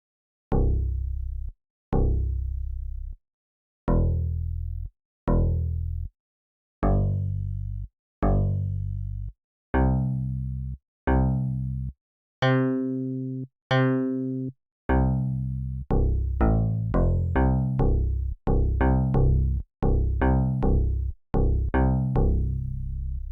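A 4-operator FM synth patch plays a series of short plucked notes, then a brief sustained chord, then a quicker run of plucks, all clean and upfront with silence between the early notes.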